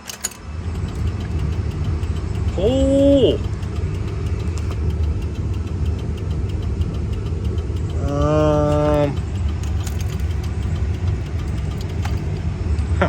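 A car engine idles with a steady low rumble, broken twice by short rising electronic chimes; a brief exclamation is heard. The hazard lights and a turn signal are on.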